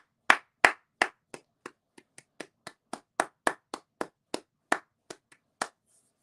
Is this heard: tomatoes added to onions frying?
no